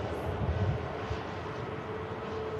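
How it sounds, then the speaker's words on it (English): Jet aircraft departing Manchester Airport, heard as a steady, moderately distant engine roar and rumble that holds at a constant level throughout, with no talk. "seeing some of these aircraft departing"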